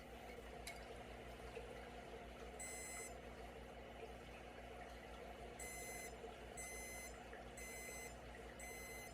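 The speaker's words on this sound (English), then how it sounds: "That didn't take long for the alarm to sound." Temperature alarm on a Seaoura programmable aquarium light controller, tripped by its probe in a mason jar, beeping in short high repeated bursts with pauses, over a steady low hum in a quiet room.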